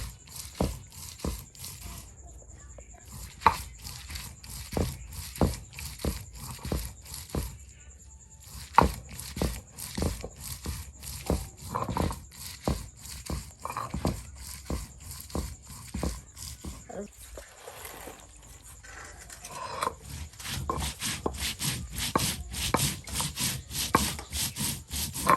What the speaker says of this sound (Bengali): আর সুন্দর করে কিন্তু পাটায় ফেসে নিচ্ছে